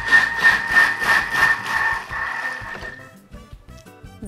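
A Thermomix TM6 churns cream into butter at speed 2, giving a steady motor whir with a strong tonal hum and rhythmic sloshing pulses that fade out after about three seconds, leaving faint clatter.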